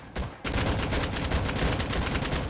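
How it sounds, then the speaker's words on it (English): Dense, rapid gunfire from the Rolling Thunder video game, a loud continuous barrage of overlapping shots after a brief gap at the start, with no talking. "Oh, I'm being shot at."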